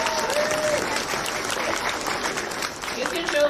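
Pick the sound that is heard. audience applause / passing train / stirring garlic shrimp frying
audience applause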